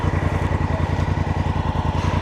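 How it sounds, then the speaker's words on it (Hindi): A motorcycle engine idles steadily and close by with a low, even throbbing pulse, stopped on a mountain road after rain, with no talk over it. "बंद करें बाइक।"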